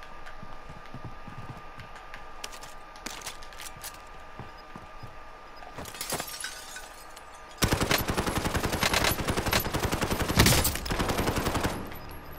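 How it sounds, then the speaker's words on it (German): Gunfire in the shooter Warzone: scattered distant shots early on, then loud, rapid automatic bursts hammering close by in the second half, with no talk over it. "Ganze Zeit habe ich auf ihn geschossen, Freunde."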